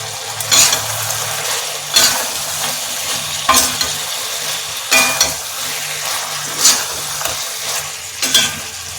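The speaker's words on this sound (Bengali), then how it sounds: "চিকেন মশলা দেবার পর একটু কষিয়ে নিয়েছি।" Chicken sautéing with chicken masala in a pan for Bengali chicken kosha, a low sizzle under loud, regular stirring strokes, roughly every second and a half, with metallic clinks of spoon against pan.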